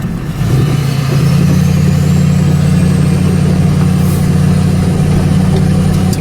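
A GMC Sierra pickup, losing power with its transmission stuck in second gear, is driven slowly around a shop lot; its engine drones loud and steady up close, rising from a low idle into a sustained hum with a faint whine climbing above it.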